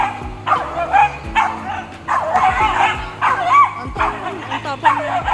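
Several dogs yipping, whimpering and barking in short repeated bursts, close and loud, with people talking in the background.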